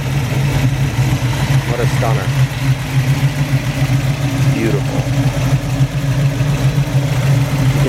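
A 1969 Ford Mustang Mach 1 fastback clone with a restored 351 Windsor V8 idles steadily and loudly throughout, a deep low rumble under a man's brief admiring remarks.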